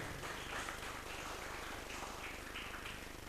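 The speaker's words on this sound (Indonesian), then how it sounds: "Berikan tepuk tangan untuk kita semua tentunya." Steady applause from an audience at a youth Pancasila ideology education event in Indonesia, a dense even wash of clapping throughout with no voices.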